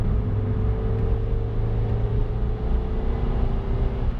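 A naturally aspirated Renault Twingo 2 RS Cup engine accelerates toward 6,000 rpm, droning steadily with a low rumble and a faint rising whine, close and continuous throughout, no voices.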